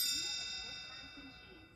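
A storybook read-along page-turn cue rings as one bright chime, a clear metallic ding that decays smoothly over nearly two seconds, alone and close.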